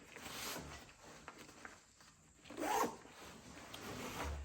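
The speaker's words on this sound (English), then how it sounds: "Let's go ahead and zip this up now" Zipper on a bulletproof backpack being pulled shut in a few quick rasping strokes, with a louder, fuller pull midway, close by, in a quiet room with no talking.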